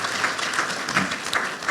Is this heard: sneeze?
no